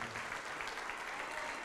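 A church congregation claps in steady, continuous applause, fairly distant and evenly sustained, with a faint murmur of voices beneath.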